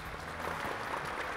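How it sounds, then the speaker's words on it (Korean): An audience claps steadily in a hall at a Korean talk concert, welcoming a guest onto the stage with dense, sustained applause and no voices over it. "박수로 맞아주시기 바랍니다"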